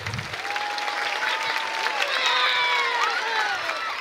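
Audience applause at a school dance festival, with steady clapping and crowd noise throughout and a voice or whistle-like tones rising above it.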